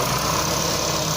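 A rebuilt tractor, restored from scrap, idles with a steady, loud, low engine rumble that holds unbroken and even from start to finish with no voices.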